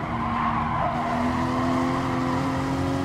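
A race car in Gran Turismo powering out of a corner at Lago Maggiore, its engine droning steadily with a rising tone and a squeal of tires, loud and continuous.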